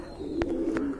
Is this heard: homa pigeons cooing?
yes